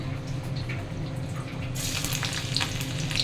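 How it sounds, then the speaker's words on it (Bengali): Garlic and dried red chilies drop into hot oil for fried red amaranth greens: a quiet background hum gives way to a sudden, loud, steady sizzle that continues to the end. "রসুন আর লঙ্কা দিয়ে দিচ্ছি"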